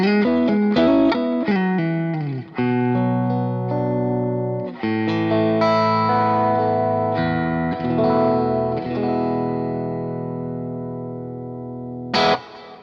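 Clean electric guitar tone through a Mesa Boogie Mark IIC+-style preamp module, ringing chords and single notes with chorus and reverb shimmer, loud and close, ending on a brief sharp strum.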